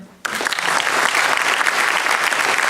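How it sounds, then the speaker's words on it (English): An audience bursts into applause for volunteers after a brief quiet start, dense and loud clapping from a large crowd filling the room and holding steady. "Can you please clap for them?"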